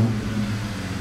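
A car engine runs with a deep, steady rumble and mild throaty revving, heard from the intake through an oiled air filter, close and loud throughout.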